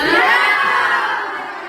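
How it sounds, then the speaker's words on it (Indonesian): A classroom of children claps and cheers for a group of classmates, a loud, bright burst of young voices that fades over under two seconds. "Tepuk tangan buat kelompok satu"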